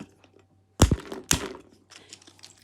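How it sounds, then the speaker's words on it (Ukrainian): Two sharp cracking thunks a moment apart as walnuts are cracked close by, followed by faint rustling and crumbling of shells. "Десь так гарно б'ють горішки"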